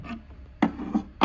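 A small fixing bolt being worked out of the joint on a wooden leg of a Georgian campaign table, producing short scraping, rasping bursts of metal against wood, close and fairly quiet.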